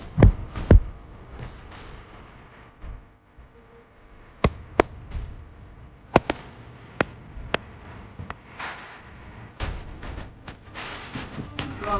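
Firecrackers from a Sivakasi fireworks shop go off in a scattered series of sharp bangs and pops, some close and some fainter, spread across twelve seconds with low talk in between.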